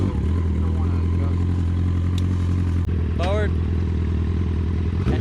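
A CBR 1000 motorcycle-engined buggy rumbles loud and close with a steady low drone, a brief clank and short squeal near the middle, while people talk over it.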